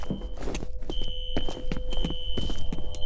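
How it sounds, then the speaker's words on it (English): A steady electronic fire alarm tone sounds in the video game F.E.A.R., starting just under a second in and holding constant, while rhythmic footsteps tap along underneath. "A fire alarm. It was triggered at a security office on that floor."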